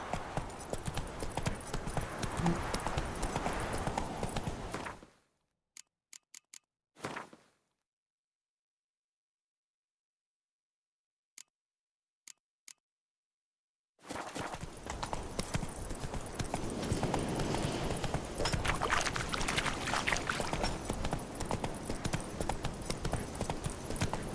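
Horse hooves clip-clop steadily in The Witcher III: Wild Hunt, loud and close, then drop out into several seconds of near silence with a few isolated knocks before the galloping rhythm resumes at full strength.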